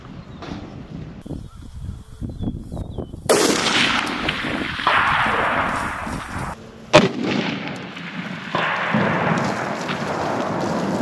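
A rifle shot fired at a barrel target in a bean field, heard as a sharp loud crack followed by a long rolling echo, then a second sharper report several seconds later over outdoor background noise.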